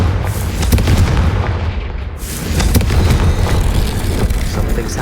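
A Confringo blasting spell explodes in Hogwarts Legacy, a loud booming burst followed by a rumbling, crackling tail with a second heavy swell of blast noise, close and dominant.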